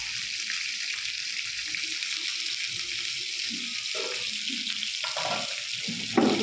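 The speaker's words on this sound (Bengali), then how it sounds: "শীতের দিন তো তাই সকালেই রান্না করে নিচ্ছি।" Food frying in a home kitchen on a winter morning, a steady soft sizzle throughout with faint stirring and clinks of utensils, no talking.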